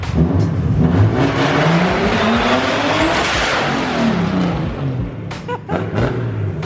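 Powerful turbocharged car engines rev hard and roar past at a drift event, pitch rising and falling, with brief tire squeal and more engine bursts near the end.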